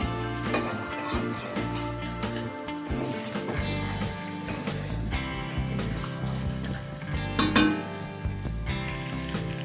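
Chicken stirred and sautéed with spices in a pan over low to medium flame for a chicken and potato curry, with steady clattering of a utensil against the pan and a soft sizzle throughout, accompanied by faint background music.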